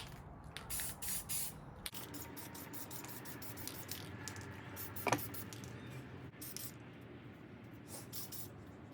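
Parts of a custom Beyblade launcher get sprayed with Krylon Fusion Gloss Patriotic Blue spray paint. A steady close hiss runs throughout, broken by short bursts and a rattle or click partway through.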